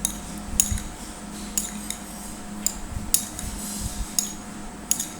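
Spoon scraping and clinking against a dish while mixing nimko snack with plum chutney, a steady series of light metallic taps about once per second over quiet background hum.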